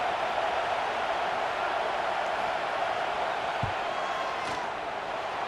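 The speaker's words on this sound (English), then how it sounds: "This crowd trying to do its part to get inside the kicker's head." Steady stadium crowd roar in a college football video game (NCAA 26) as a field goal is attempted, a dense continuous wash of noise with a brief thump partway through.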